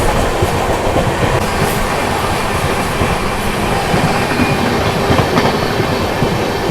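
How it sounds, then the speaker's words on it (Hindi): Kolkata Rajdhani Express and Magadh Express, Indian express trains, running in dense fog, fill the air with a loud, steady roar and rolling wheel clatter throughout. "Kolkata Rajdhani express versus Magadh express."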